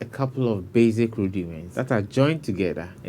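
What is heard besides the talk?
No distinct noise like a dog, phone or traffic.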